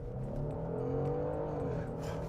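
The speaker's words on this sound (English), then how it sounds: "let's give this a quick acceleration pull from a stop. No launch control, a little bit of brake boost." Genesis GV70 SUV, 2026 model, accelerating hard from a stop with brake boost and no launch control: a continuous engine drone rising in pitch as it pulls, heard from inside the cabin without talk.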